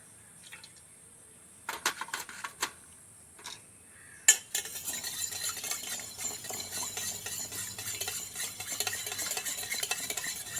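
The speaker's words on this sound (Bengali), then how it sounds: "এবার হাফ কাপ সাদা তেল দিয়ে ফেটিয়ে নেব কিছুক্ষণ।" Eggs whisked with half a cup of white oil in a metal bowl for a palm-fruit cake batter: a few separate clinks at first, then a steady, fast scraping whisk rhythm that fills the rest of the take, close and moderately loud.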